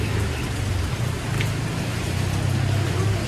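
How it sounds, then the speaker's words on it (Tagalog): Heavy rain pours down at a dragon fruit farm in Cavite, a dense, steady hiss with a low rumble underneath, constant and close throughout with no talking. "Ang lakas kasi ng ulan dito guys."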